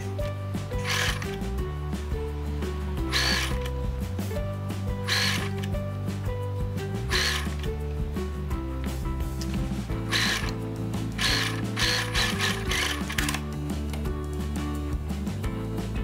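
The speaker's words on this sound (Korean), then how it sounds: "1cm 선을 따라서 동그랗게 원통형으로 봉제해 주시면 돼요" Sewing machine stitching a blouse sleeve and cuff together into a tube along a 1 cm seam line, with a close, steady mechanical whir and rhythmic clicking bursts running the whole time.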